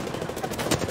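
Rapid gunfire from an Apex Legends duo match rattles in a dense, continuous burst, loud and close, with no talk over it.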